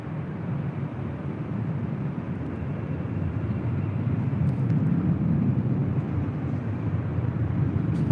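A steady, broad jet roar of an Asiana Airbus A380 at LAX, building slightly in loudness over several seconds, heard at a distance with no one talking.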